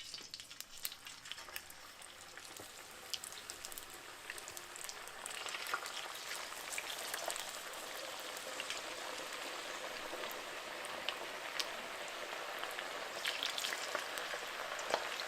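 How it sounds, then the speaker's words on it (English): Potatoes frying in hot oil in a pan give a steady, close crackling sizzle, with dense popping spatter that holds level throughout and no voices. "Now you're going to place your potatoes in your pan and you're going to fry until they're crispy."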